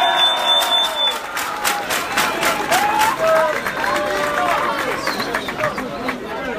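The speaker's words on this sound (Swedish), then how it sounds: "Och det är värt en stor applåd." At a school sports award ceremony for footballer Vigge in Västerås, a crowd of pupils claps and cheers loudly with shouts and whistles scattered through the applause, sustained over several seconds.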